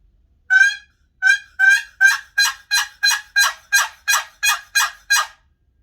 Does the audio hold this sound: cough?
no